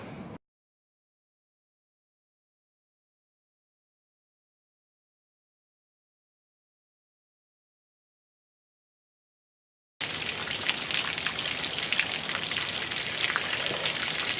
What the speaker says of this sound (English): All right, now let's get a big rain going.